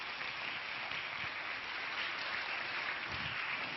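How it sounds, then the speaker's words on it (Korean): A church congregation claps to welcome the pastor to the pulpit, a steady, even wash of applause from a crowd, moderately distant and continuous throughout, with no talking. "우리 큰 박수로 환영하도록 하겠습니다"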